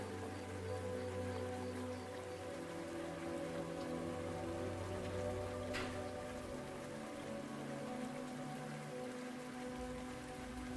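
Soft rain ambience played behind a game development stream, a gentle steady patter of raindrops on a surface with faint low tonal hum beneath, continuous and even throughout.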